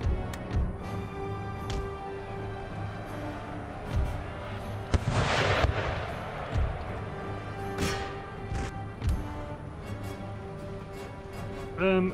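Cannon fire booms repeatedly through a siege battle in Empire: Total War, with irregular heavy blasts over a constant din of distant battle noise and a few sharper bursts.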